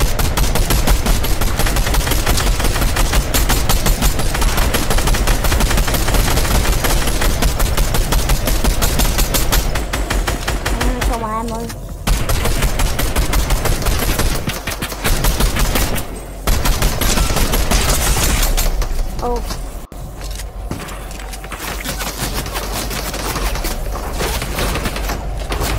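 Rapid automatic gunfire and bursts of shots from a Fortnite battle in Bio trio zone wars, loud and nearly continuous, with brief lulls and a few booms.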